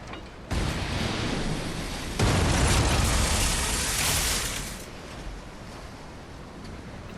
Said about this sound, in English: I'll wait for the next cannon.